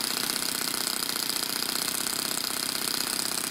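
A small single-cylinder four-stroke overhead-cam RC car engine idles low and steady, its rapid even putter close by and continuous.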